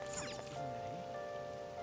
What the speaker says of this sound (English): It's raining today, too.